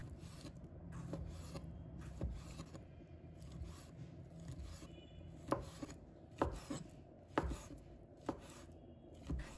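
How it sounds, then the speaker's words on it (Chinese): A knife slices boiled pork liver on a cutting board, soft rhythmic cuts giving way to sharper, distinct knocks against the board, close and fairly quiet, with no talking. "把它切成片，片可以切成自己喜欢的厚度。"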